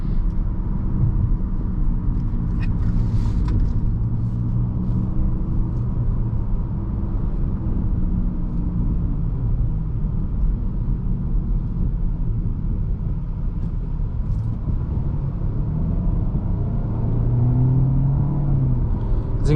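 A 2021 Nissan Altima SR AWD cruises along with a steady low engine drone and road rumble from inside the cabin, continuous and even, with no talking.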